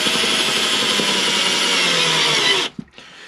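A power drill driving a small self-tapping screw, a steady loud whir lasting about two and a half seconds that slows slightly as the screw seats, then stops abruptly with a brief clatter.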